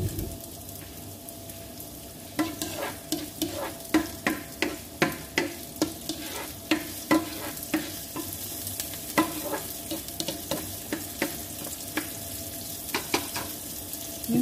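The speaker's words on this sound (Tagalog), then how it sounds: "Yan, lagay ko na yung sibuyas." Onions go into a hot pan for chicken afritada and sizzle steadily, while a utensil stirs and scrapes in a regular rhythm, close and moderately loud with no talking.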